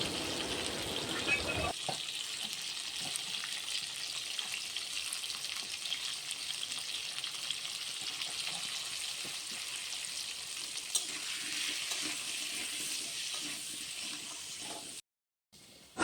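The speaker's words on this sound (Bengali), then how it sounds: "আলুগুলি দিয়ে দিলাম কড়াইতে, তার উপর হলুদের গুঁড়ো আর লবণের গুঁড়ো দিয়ে আলুগুলি ভেজে নেব।" Potatoes sprinkled with turmeric and salt fry in a kadai, producing a dense, steady sizzle with faint stirring clatter throughout, cutting off abruptly near the end.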